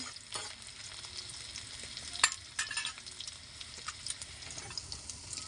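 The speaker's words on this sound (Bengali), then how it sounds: "কালো জিরে ফোড়নটা দিয়ে নিলাম সামান্য আরেকটু নাড়াচাড়া করে নেবো" Black cumin (nigella) seeds sizzle in hot oil in a pan, giving a faint, steady crackling hiss broken by scattered pops and scraping clicks as they are stirred, with no one speaking.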